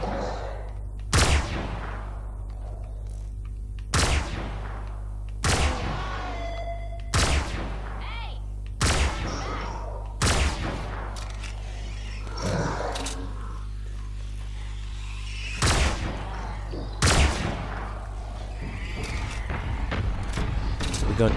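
Sniper rifle shots in Fortnite Save the World ring out one at a time, about a dozen sharp loud cracks spaced every one to two seconds over a steady low game hum.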